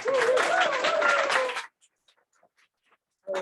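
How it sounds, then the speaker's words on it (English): An audience at a poetry book event for Paul Tran's All the Flowers Kneeling gives a short burst of clapping that cuts off after about a second and a half, followed by near silence and then a voice. "A cute round of applause for Carr."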